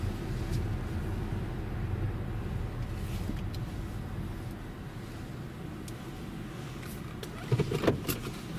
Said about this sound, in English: I'm going to park the car